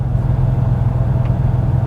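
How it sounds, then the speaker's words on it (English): Car passing on a rural bend road, heard from inside a moving Porsche Boxster as a steady loud low rumble of road and engine noise, close and continuous with no voices. "Oh, where's that car come from?"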